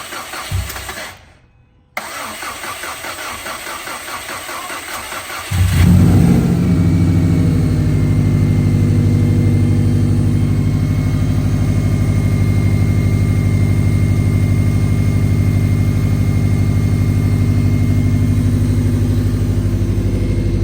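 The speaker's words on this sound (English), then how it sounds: "look who started the car" A 2011 Subaru WRX STI engine cranks briefly, catches and fires up, then settles into a loud, steady rumbling idle that continues close to the microphone for the rest of the clip.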